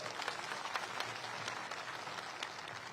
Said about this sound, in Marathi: एकदा पुन्हा माझ्यातर्फे जोरात टाळ्या वाजून त्यांचं स्वागत करा